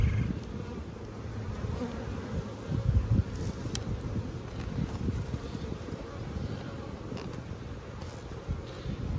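Honeybees at a crowded hive preparing to swarm fill the air with a continuous, dense buzzing hum, close and steady, with faint wind noise brushing the microphone.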